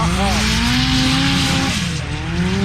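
Side-by-side UTVs from LaRue and Packard drag racing at the UTV Invasion event, with loud high-revving engines roaring steadily through the whole stretch and a pitch dip partway along.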